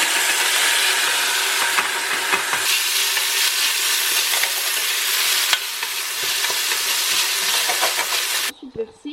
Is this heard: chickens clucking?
no